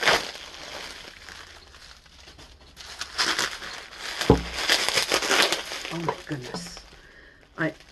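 Plastic packaging from a yarn haul crinkles and crackles as it is wrestled open, a close, irregular rustling with sharper crunches, and a person's voice comes in briefly near the end.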